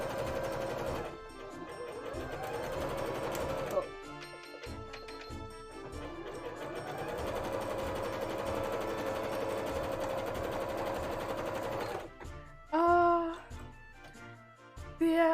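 A sewing machine runs zigzag stitches over a fabric edge for a cosplay costume in steady rapid bursts, pausing briefly between runs, close and fairly loud, with a few clatters near the end.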